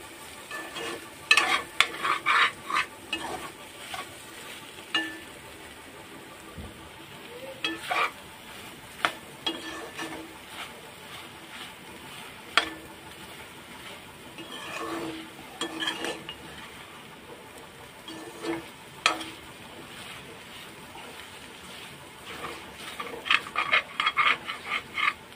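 Soya chunks and eggs stir-fried in a pan, a steady soft sizzle broken by repeated scraping and clinking of a spatula against the metal, irregular stirring strokes, close by with no talking.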